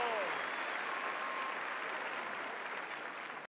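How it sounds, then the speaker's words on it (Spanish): An audience at a comedy show at the Viña del Mar festival applauds in a dense, steady wash of clapping that fades slightly before cutting off abruptly. "Gracias por su aplauso."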